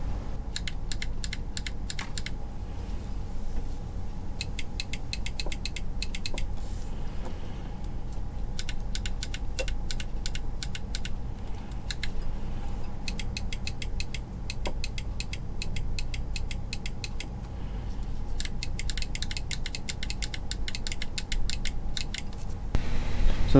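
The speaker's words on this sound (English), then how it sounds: "So here's what my paddle shifter sounded like before I went ahead and installed the mod." Crisp plastic clicks from the paddle shifter of a Logitech G27 racing wheel before a magnetic mod, fired in rapid rattling bursts separated by short pauses, close and clear over a faint background hum.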